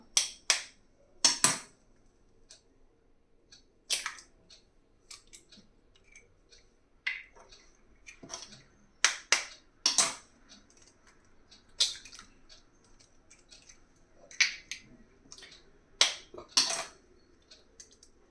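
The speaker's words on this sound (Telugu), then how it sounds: "ఇప్పుడు నేను 4 ఎగ్స్ తీసుకుంటున్నా. ఈ 4 ఎగ్స్ ఇందులో వేసేసుకుందాం." Four eggs are cracked into a bowl: a series of sharp, quiet taps and cracks followed by soft wet squishes and drips, spaced irregularly across a fairly hushed stretch.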